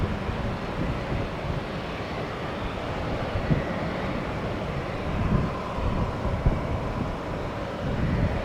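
American Airlines airliner taking off from an airport, a broad distant jet roar mixed with wind noise on the microphone, steady with slight swells.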